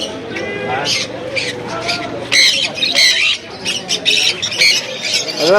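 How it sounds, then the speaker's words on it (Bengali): Exotic caged birds at a bird market, with loud overlapping squawks and shrill calls close by in irregular bursts, thick with chatter throughout. "ফ্রেশ পাখি এখানেও খুব সুন্দর"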